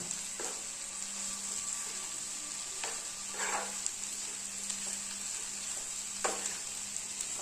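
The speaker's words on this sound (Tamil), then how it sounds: "சேர்த்துட்டு லோ ஃப்ளேம்லேயே வச்சு நல்லா வதக்கி விடுங்க." Ivy gourd pieces frying on a low flame, a soft continuous sizzle with occasional spatula scrapes and light stirring strokes against the pan, close and steady with no talking.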